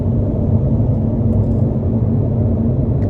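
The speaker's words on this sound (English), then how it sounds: "this is a pretty rough stretch of interstate, still pretty loud on these tires" Steady, loud road roar from the tires of a 2009 Audi R8 with a 4.2 V8 on a rough interstate, a dense low rumble that stays constant throughout.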